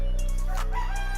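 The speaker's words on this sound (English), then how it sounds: "Out here the roosters." A rooster crows once nearby on a property with banana and mango trees, a short rising cock-a-doodle-doo set against a steady low hum, with no voices over it.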